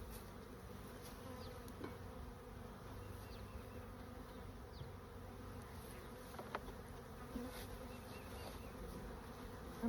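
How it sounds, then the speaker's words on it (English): Honeybees buzz steadily around a newly installed beehive, a soft, continuous drone of many insects with occasional louder passes close by, and no voices. "I'm also not used to having this many bees."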